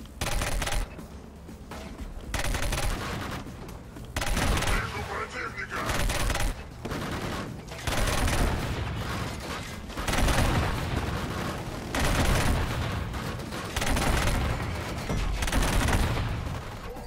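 Turret and weapon fire in the Killzone Shadow Fall shooter: dense bursts of automatic gunfire and heavy booms come in repeated loud volleys with brief lulls. Voices are faintly present under the shooting.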